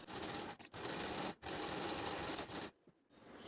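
Sewing machine stitching a fabric strip onto the shoulder of a girl's summer dress, a steady, close mechanical whir broken by brief pauses as the stitching stops and restarts.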